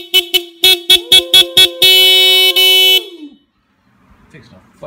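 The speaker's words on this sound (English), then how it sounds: "What we're installing today is the Stebel Nautilus air horn for motorcycles." A Stebel Nautilus air horn on a Kawasaki Z125 Pro motorcycle blares close and loud as a rapid series of short toots, then two longer blasts, before quiet returns.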